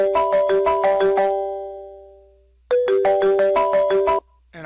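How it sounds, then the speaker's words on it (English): Incoming call ringtone on a 3CX office phone: two bursts of rapid, bright electronic chiming tones, the first fading out before the second starts, loud and close with no talking. "I'm going to call from the office manager's phone."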